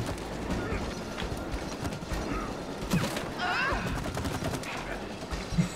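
Gunfire at a chain in the video game It Takes Two, several sharp bursts with clanking impacts over busy game sounds and music.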